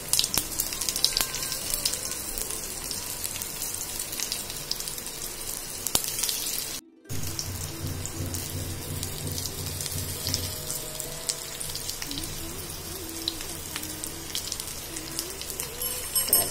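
Cut vadi fry in hot oil with mustard seeds, a loud, continuous crackling sizzle that cuts out for a split second midway and then resumes, close and steady.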